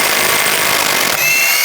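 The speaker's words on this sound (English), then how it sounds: "Using a 36mm socket, take the nut off." A power tool, likely an impact wrench, runs continuously with a harsh, steady whir as it removes the front axle nut on a 2001-2006 BMW 325Xi with a 36mm socket, loud and close, then slightly changes pitch near the end.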